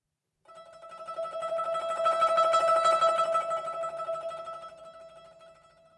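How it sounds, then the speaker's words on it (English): Zheng plucked with the yaoshi tremolo roll, a rapid shimmering repetition on one sustained pitch that swells in after a brief silence, peaks in the middle and fades slightly, played alone. "Here's what the tremolo sounds like on its own."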